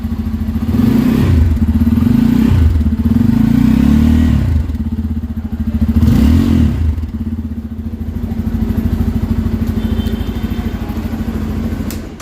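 A Bajaj Pulser N250 motorcycle with a dual-barrel exhaust revs hard several times from idle, with a deep, throaty exhaust roar rising and falling close by.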